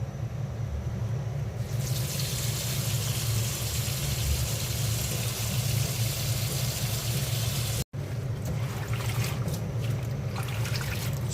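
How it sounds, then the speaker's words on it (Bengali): Red amaranth leaves being washed under running water, a steady close gush and trickle that continues unbroken, with only a momentary break near the end. "লাল শাকটা কাটার আগে আমি ধুয়ে নেব।"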